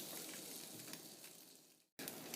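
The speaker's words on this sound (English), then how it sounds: "on the bottom in here we're going to throw our bagels, our buttered bagels" Buttered bagels sizzle on a hot Lodge cast iron griddle, a steady close frying hiss over a little above medium heat that drops out briefly near the end, then resumes.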